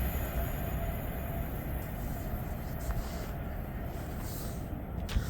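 Class 39123 train running from London Euston to Glasgow Central passes through Berkhamsted station, a steady broadband rumble of wheels and motors holding at moderate loudness throughout, with faint higher squeals near the end.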